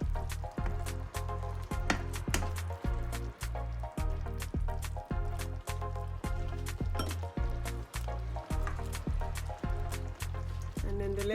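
Parmesan cheese being stirred into a creamy lemon sauce in a pan, making a steady rhythm of soft wet squishes and light taps, quiet and close.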